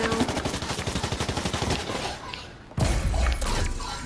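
Rapid automatic gunfire in a Jujutsu Kaisen video game as another player shoots, a fast rhythmic burst of close shots, a brief lull, then a second dense volley of fire and impacts.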